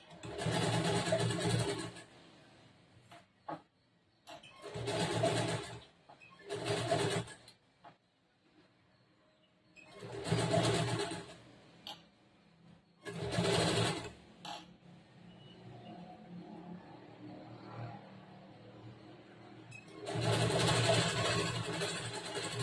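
A sewing machine stitches around a blouse neckline in several separate bursts of a few seconds each, with quiet pauses between runs as the fabric is turned.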